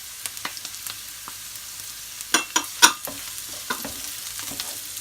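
Crushed garlic frying in a pan with dried red chillies for a spicy fish curry, a low steady sizzle punctuated by a few sharp spoon clinks and scrapes in the middle, close and without speech.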